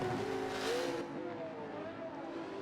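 A Lamborghini Huracan race car engine drones during a drag race at a motorsport heritage festival, a steady mid-distance roar that swells and then fades, with commentary voices layered over it.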